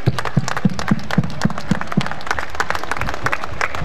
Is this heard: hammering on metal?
no